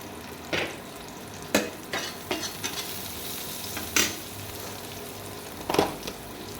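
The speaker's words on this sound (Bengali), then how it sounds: "কাঁচা লঙ্কা দিয়ে ভালো করে আমি নেড়ে চেড়ে নেব।" Rohu fish curry with green chillies being stirred in a pan, heard as soft scattered scrapes and clinks of a utensil against the pan over a faint steady background hiss, with a handful of sharper knocks spread across the stretch.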